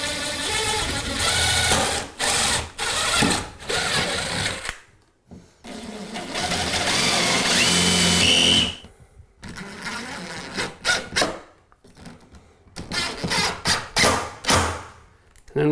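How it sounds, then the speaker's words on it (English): Power drill pre-drilling a hole in a fiberglass bathtub during a bathroom remodel, several close bursts of whirring drilling of varying length separated by pauses and handling knocks. "Always pre-drill this hole. This is fiberglass."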